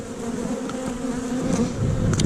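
Honeybees buzz in a steady, dense drone around an opened hive with a screened bottom during an inspection, close and continuous with no voices.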